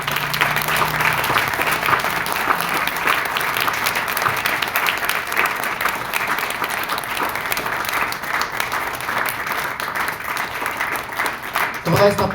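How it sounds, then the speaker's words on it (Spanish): A church congregation applauding the Lord during a sermon, sustained loud clapping from a large crowd that runs steadily throughout, with voices mixed in beneath. "Dan un aplauso fuerte al Señor"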